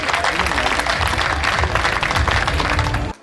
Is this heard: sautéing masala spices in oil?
no